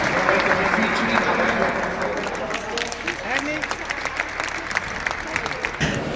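Audience applause at an Italian charity event, steady dense clapping from a crowd that tapers slightly toward the end, with some voices faintly underneath.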